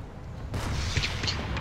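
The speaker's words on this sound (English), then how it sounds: "These freaking explosions look awesome." Explosions in the shooter game PlanetSide 2 go off as a sudden loud burst after a quiet start, followed by rumbling booms and sharp cracks of battle noise.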